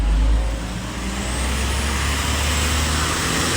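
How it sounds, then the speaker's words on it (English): A big truck rumbles past on a roadway close behind, its steady low engine drone and road noise filling the whole stretch at near-constant loudness. "There's a big ass truck behind me"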